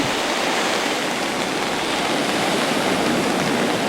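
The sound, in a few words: waves on Indian Rocks Beach before Hurricane Hermine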